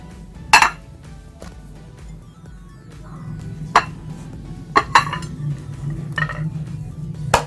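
Utensil clinking against a bowl while stirring homemade face mask ingredients such as aloe vera gel and coconut, a few sharp clinks spread over steady low background noise with no talking.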